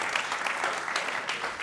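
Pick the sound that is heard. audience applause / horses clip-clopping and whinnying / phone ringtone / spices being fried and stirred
audience applause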